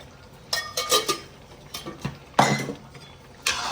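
Ghee-coated puran poli filling stirred and mixed in a pan, with a series of close metallic scrapes and clinks of a spoon against the pan coming in irregular bursts.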